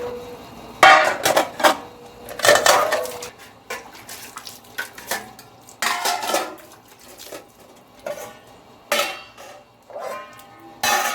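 Utensils being rinsed with water in a home kitchen, with clattering metal dishes and cutlery in irregular bursts over running, splashing water, close and fairly loud with short pauses.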